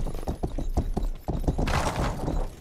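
A horse's hooves clip-clop in quick, uneven beats as it is ridden in the Western video game Rustler, with thuds and a rising rush of noise partway through.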